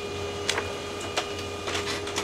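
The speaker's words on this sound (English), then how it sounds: "And the printer starts printing." An inkjet-style printer running a four-page tile print job, with a steady low mechanical hum broken by several short swishing passes of the print head, fairly close and with no one talking.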